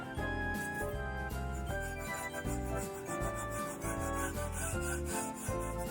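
A waterslide decal is burnished gently onto a tumbler by hand, producing rhythmic rubbing strokes, close and fairly quiet. The strokes repeat steadily with no talk.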